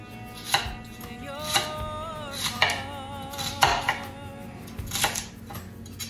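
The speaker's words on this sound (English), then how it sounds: "She's cutting shallots." A knife chops shallots on a cutting board in a home kitchen: about six sharp, evenly spaced knocks over a faint ongoing hum, close and distinct, with no talk.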